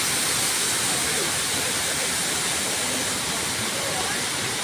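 Taytay Falls roaring steadily, a dense, loud, unbroken rush of falling water close by on an overcast day.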